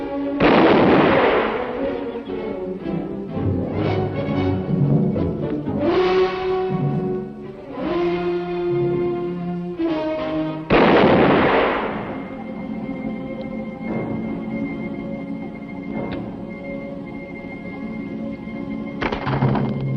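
Gunshots and loud booming blasts ring out in a western film scene, several heavy reports with long echoing decays spread over the span, some sustained rumbling tones between them and no talk.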